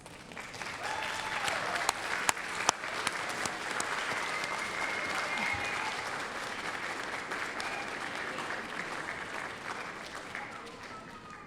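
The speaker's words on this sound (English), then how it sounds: "give them a round of applause" A steady round of applause from a seated audience at a college nursing pinning ceremony, with dense, even clapping held at a moderate level throughout.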